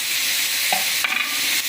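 Ripe tomatoes are sautéed in a pan for Chettinad prawn gravy, giving a steady close sizzle with a few short stirring scrapes.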